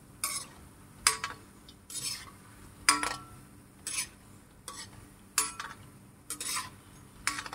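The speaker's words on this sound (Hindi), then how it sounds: "जब हम ऊपर से ऐसे तेल करते हैं तो दाल अच्छे से सिक जाती है" Lentil Ram laddoo fry in oil under a faint steady sizzle, punctuated by about ten sharp scraping clacks of a utensil turning them at a regular rhythm, close by.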